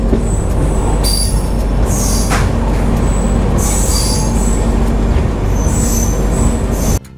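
A train rolls into Mungilipattu station on the Vellore to Howrah line, its wheels squealing shrilly in repeated bursts over a loud, continuous rumble of rail cars close by.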